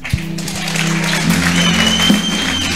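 An audience claps for Jesus at a church gathering. The applause is steady and fairly close, with a low tonal hum or music running underneath throughout.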